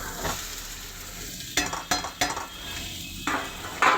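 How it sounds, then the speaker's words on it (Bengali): Green jackfruit sizzles in hot oil with spices, a soft steady frying hiss broken by several sharp scrapes and clinks of a spatula stirring against the pan. "এঁচড়টা দিয়ে দিলাম এঁচড়টা দিয়ে এবার একটু কষাবো"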